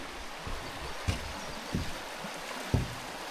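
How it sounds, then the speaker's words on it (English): Clear stream water flows steadily in a European rainforest, a continuous broad rushing wash with a few soft knocks and splashes, moderately close with no talking. "There's the water I could hear."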